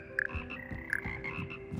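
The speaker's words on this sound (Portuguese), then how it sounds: "Coral de sapos." Frogs croak in a chorus in the video game Hogwarts Legacy: two clear, close croaks roughly three quarters of a second apart ring out over a steady low ambient hum, with no talking.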